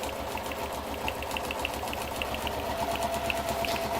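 Sewing machine top stitching fabric, a steady rapid mechanical chatter with a low motor hum, close and continuous, with a faint tone entering toward the end.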